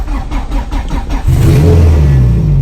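A Honda Integra GSR with a turbocharged B18C1 engine, untuned and on a new clutch, gives a few quick pulsing revs and then settles into a louder, steady engine drone, heard up close.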